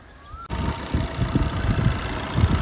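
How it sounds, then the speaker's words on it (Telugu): A 2016 Tata Zest car with 65,000 km on it idles steadily after a brief click, giving a low, even engine hum with soft rhythmic pulsing close by and no voices. "ఒక్కసారి ఈ వెహికల్ నాయిస్ కూడా వినండి, ఇంజన్ నాయిస్ వినండి ఎంత స్మూత్గా ఉందో"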